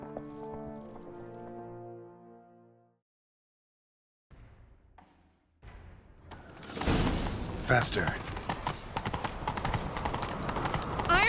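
Horse hooves gallop in The Witcher 3: Wild Hunt, a loud, fast clip-clop that surges in after a stretch of music and a pause, running under a brief spoken line and continuing to the end.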